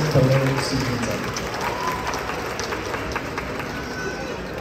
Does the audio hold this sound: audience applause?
yes